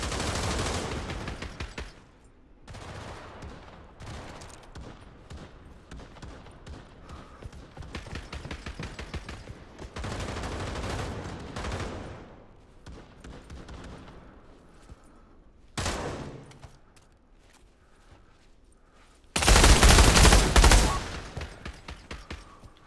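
Gunfire in the VR shooter Pavlov on PSVR2, played in online team deathmatch and WW2 modes: scattered single shots and rapid bursts crackle near and far across a match, ending in a loud close volley.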